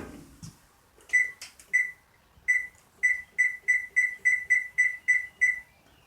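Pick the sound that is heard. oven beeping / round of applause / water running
oven beeping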